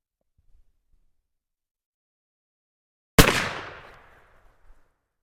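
A single close, loud blast from a muzzle loader rifle fired with 40 grains of powder booms out of near silence, its echo fading over about a second.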